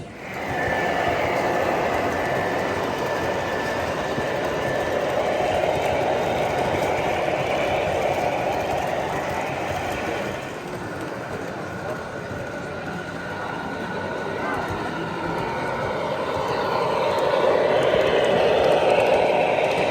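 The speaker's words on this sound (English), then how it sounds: "They have this big modular setup running some toy trains." Toy trains on a large modular model railroad layout rumble and whir steadily along the track, a continuous mechanical drone with a murmur of voices in the room.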